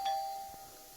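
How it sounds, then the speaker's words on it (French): A doorbell rings once with a clear electronic ding that sustains and slowly fades in a quiet room. "Complètement à l'improviste, la cloche a sonné sur la porte."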